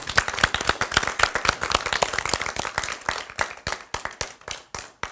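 Audience at a conference on regenerative futures claps steadily, dense applause that thins toward the end into scattered individual claps.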